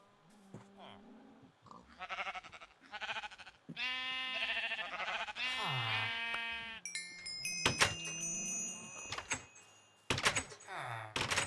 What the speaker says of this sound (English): Whoever let the freaking sheep in is gonna freaking die.